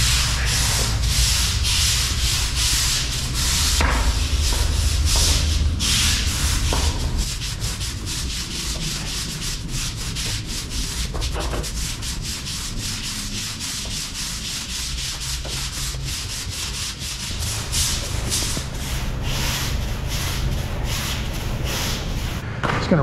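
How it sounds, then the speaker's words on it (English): A surface is scrubbed before rinsing, giving loud, continuous rough rubbing strokes with a repetitive back-and-forth rhythm and a low rumble underneath, with no talking. "Now we'll scrub it up a little bit and then rinse it all down."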